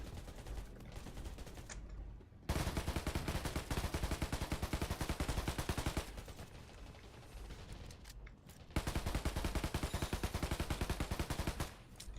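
Gunfire in the video game Undawn, dense rapid automatic bursts in several long runs broken by short pauses, fairly quiet overall with no talking.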